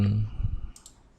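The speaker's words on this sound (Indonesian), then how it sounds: "kita pakai di keyboard ya, tanda panah di keyboard, kita naikkan seperti itu" Keyboard arrow keys are pressed a few times in quick succession, producing short, close plastic clicks that fade into quiet room tone.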